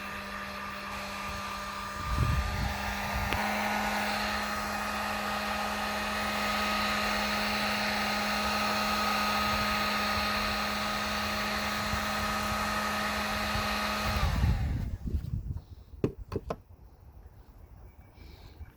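A Drill Master heat gun runs on low heat, a steady loud electric blower whine and hum that holds for about twelve seconds before cutting off, with a few handling knocks around it and no speech.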